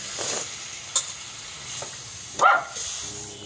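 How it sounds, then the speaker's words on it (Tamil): Chicken pieces fry in a hot pan as they are stirred, giving a soft sizzle with a few sharp clinks and scrapes from the spoon and no voices. "அதுக்கப்புறமா சிக்கன் போட்டுக்கணும் ஃப்ரெண்ட்ஸ். போட்டுவிட்டு நல்லா கலக்கிக்கணும் ஃப்ரெண்ட்ஸ்."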